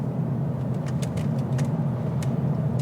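Engine of a modified 2011 Mustang GT running through turns on a highway on-ramp, a steady mid-pitched drone with faint intermittent ticks and clicks over the continuous hum.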